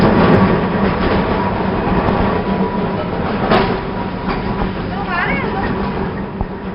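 A tram runs on a street as service resumes, with a continuous loud rumbling and rattling of the car over rails. Someone speaks over the noise and a bell-like squeal rises near the end.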